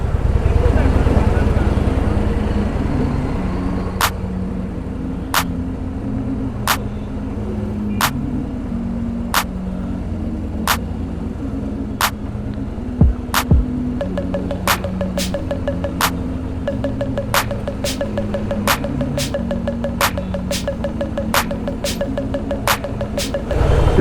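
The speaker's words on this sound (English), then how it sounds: "the traffic is a little more than I anticipated it to be" Morning road traffic rumbles steadily around a moving motorcycle, a constant low engine and road drone with a regular ticking indicator clicking through the latter half.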